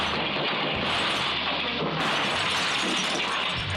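A thief strikes the shatterproof glass door of a shop, a harsh crashing impact with a dense, noisy wash that fills the whole clip at low level without a clear break.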